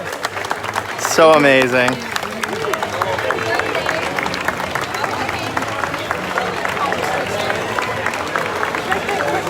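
A large opening-day crowd at Hollywood Studios for Mickey and Minnie's Runaway Railway fills the air with a continuous dense murmur and scattered clapping, while one voice speaks briefly up close.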